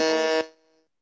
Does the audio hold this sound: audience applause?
no